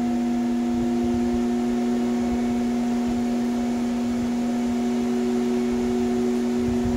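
Terra Bloom 8-inch fan running at full blast, a steady electric hum with clear tonal lines over a constant airy rush, unchanging throughout with no talking.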